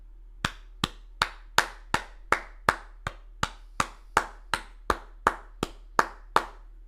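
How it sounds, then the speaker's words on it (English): One pair of hands claps slowly and evenly, about sixteen sharp, close claps spaced roughly half a second apart, crisp and alone over a faint low hum. "Little applause for Tyron Woodley there, dude"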